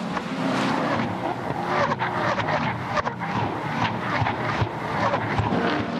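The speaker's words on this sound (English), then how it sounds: "they've got a new header and exhaust system on them, so they snarl a little bit more" V8 race utes with new headers and exhaust systems roar and snarl loudly and continuously at Sandown, with rising and falling revs as they pass close by.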